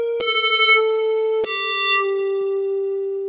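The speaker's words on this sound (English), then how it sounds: "a wobble that starts off with a high frequency and goes down" A bright FM synth tone with a wobbling character, struck twice, each time settling downward in pitch and ringing out steadily with no voices.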